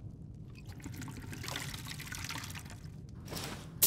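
Water poured to refill a flask: a soft, close trickle and splash of liquid lasting several seconds, quiet and uneven, ending with a brief knock.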